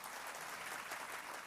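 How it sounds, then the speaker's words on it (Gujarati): An audience at a motivational talk bursts into sustained, dense applause, many hands clapping together at an even level from start to finish. "જબરજસ્ત તાળીઓ સાથે."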